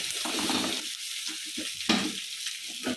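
Chicken pieces frying in a pan with no added masala, sizzling steadily while being stirred, with soft scraping and clinking of the utensil against the pan.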